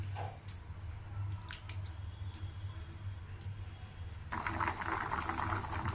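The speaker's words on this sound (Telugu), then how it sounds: "మెంతికూర పులుసు బాగా మరుగుతోంది, రెడీ అయిపోయింది." A fenugreek leaf curry thickened with gram flour simmers in a pot, making soft squishy bubbles and occasional drips. The sound is close and fairly quiet, and the bubbling thickens in the last seconds.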